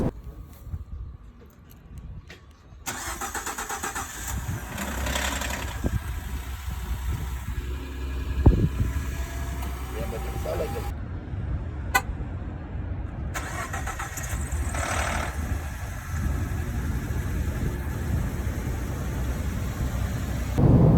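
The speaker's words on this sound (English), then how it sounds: "that engine noise was completely disgusting" A Ford F-150 EcoBoost truck engine runs and idles for a long stretch with a steady mechanical rattle from worn VCT chains. There are a couple of short dropouts and a sharp knock near the middle.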